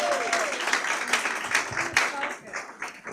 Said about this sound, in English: can we please give a round of applause to Nkechi